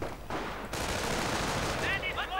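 MG42 machine gun fire in a World War II strategy game, a rapid rattling burst of shots in a multiplayer match, loud and close with overlapping battle noise.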